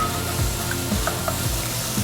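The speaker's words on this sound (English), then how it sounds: "saute some onion" Onion sautéing in melted butter in a pan, a steady close sizzle with faint stirring scrapes, no voices.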